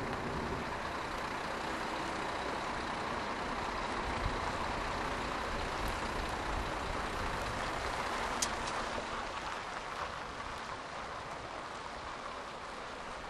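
A Denby Eco-Link lorry manoeuvres on a test track, a steady, fairly distant engine drone and road rumble that holds even throughout, with a faint brief hiss near the end and no talking.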